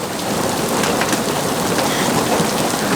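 Hail pours down outside a camper parked in a front yard, a loud, dense and steady hammering of stones with no break.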